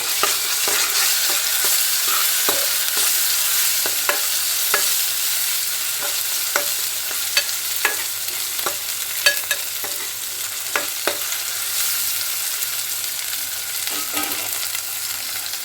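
A spoon scrapes and taps through a urad dal curry with turmeric in a pan, producing repeated sharp clinks over a soft background sizzle, close and without speech.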